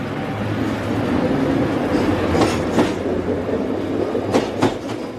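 A train pulls away southbound from a platform, with a steady rumble of wheels and carriages, faint rail squeals and a few clacks. No one speaks.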